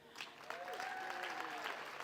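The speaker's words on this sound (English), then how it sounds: "Everybody, please give a round of applause for Denise." An audience at a community mixer applauds steadily throughout, a dense clapping wash with a few cheers and whoops rising above it.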